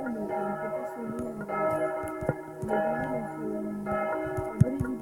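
Several church bells ring together in the tower of Notre-Dame des Sables for a funeral, a dense, sustained clangour of overlapping tones with occasional louder strikes, steady and fairly close throughout.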